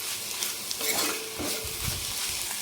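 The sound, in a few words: ponnaganti greens frying with coconut chilli powder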